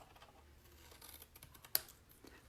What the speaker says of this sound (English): you're gonna cut off the first small square